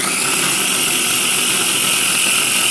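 A loud, steady motorized whir drones without pause from an electric food chopper running at full speed close up.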